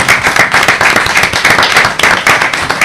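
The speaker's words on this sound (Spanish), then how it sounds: "Un aplauso, por favor." A crowd at a political talk breaks into loud, close clapping, sharp individual hand claps blending into steady applause throughout.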